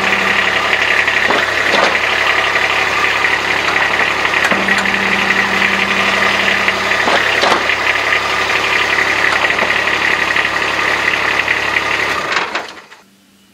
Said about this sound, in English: We're gonna start it up, raise and lower the bed a few times to fill all the voids.